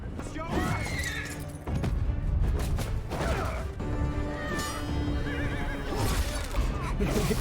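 Horses whinny and neigh repeatedly amid a busy, loud scene from The Witcher series with people talking and clattering movement throughout.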